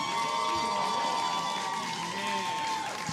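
A comedy club audience applauds and cheers as a comedian is introduced, with steady clapping and whoops filling the room and a voice over the crowd.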